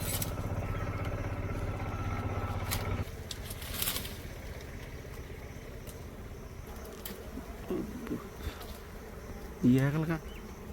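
Bees swarm and buzz around a honeycomb at an outdoor village honey harvest, a steady droning hum that fills the scene, strongest at the start, with scattered rustles and a brief sharp buzz near the end.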